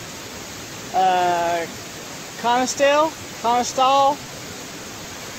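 Steady broadband rush of a waterfall cascading at Connestee Falls, filling the background throughout while someone speaks briefly over it.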